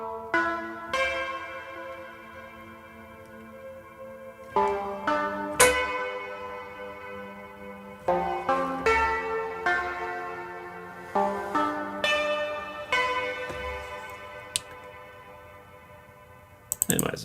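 A mallet instrument synth patch in Massive plays bright, bell-like struck notes in short percussive phrases, each decaying quickly, with faint talk in the gaps.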